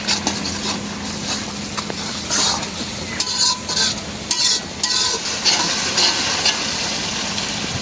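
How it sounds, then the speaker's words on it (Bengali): A pan of food is stir-fried outdoors beside a pond, giving a loud, continuous sizzle with repeated scraping strokes of a spatula against the pan. "ভালো করে কষাই নিলাম।"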